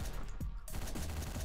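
Video game gunfire from Hotline Miami comes as a short burst of sharp, dense shots, loud and close with no speech over it, lasting only a moment.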